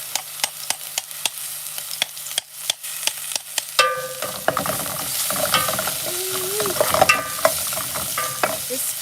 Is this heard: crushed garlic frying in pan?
yes